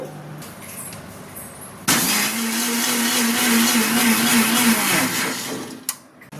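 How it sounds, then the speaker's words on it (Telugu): A mixer grinder whirs for about three seconds as it blends sugar and eggs, starting abruptly with a loud, steady motor hum and then spinning down. Quiet handling sounds come before and after. "మిక్సీ వేద్దాము"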